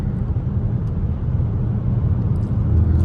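A Chrysler 300 engine with loud, steady low rumble close by, held high in track mode as it winds toward a shift, with no voices over it.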